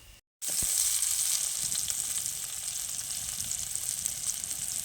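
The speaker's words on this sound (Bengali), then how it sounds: "দেখুন মাছগুলো ভাজা হয়ে গেছে" Fish fries in hot oil in a pan, giving a loud, continuous, close hiss and crackle after a brief silence at the start.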